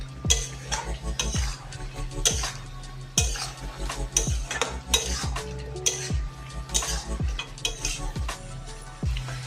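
Chicken curry, made with country chicken, is stirred in a pan with a utensil that knocks against the metal in a steady series of sharp scrapes and clanks over a soft background sizzle of oil.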